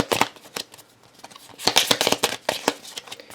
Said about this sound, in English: your nice riffle sounding hand shuffle